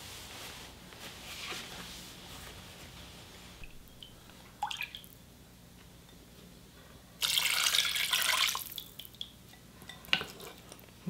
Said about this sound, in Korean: 물 조금 더 붙여.